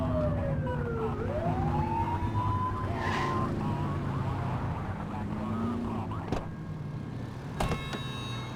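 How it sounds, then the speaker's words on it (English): A police car siren in the video game The Precinct rises in a long upward wail and holds a steady tone over a constant engine and traffic rumble, with a few sharp clicks near the end. "Get behind them and flip the siren and make them pull over."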